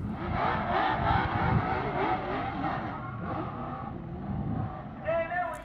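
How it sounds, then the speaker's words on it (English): A stock car does a series of burnouts at a start-finish line after a short-track race win, its engine roaring and revving loudly and continuously near, with tire noise and a commentator talking over it. "And now at the start-finish line will give us a nice series of burnouts."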